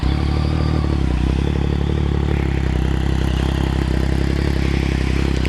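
A 2014 Yamaha FZ-09 with an aftermarket M4 exhaust runs at a steady, rumbling idle, its engine loud and close with a constant low throb and a light mechanical clatter throughout.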